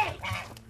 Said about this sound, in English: Geese are going crazy.